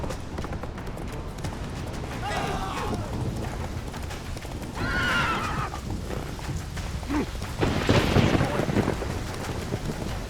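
A horse in The Witcher 3: Wild Hunt, ridden on Skellige, whinnies loudly three times over a steady rumble of galloping hoofbeats, with the last neigh the strongest and closest.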